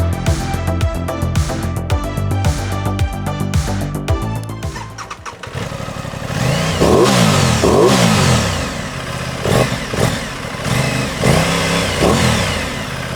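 A stock Aprilia Tuono 660 Factory motorcycle engine starts and then revs repeatedly, loud and close, with sharp throttle blips rising and falling through the clip.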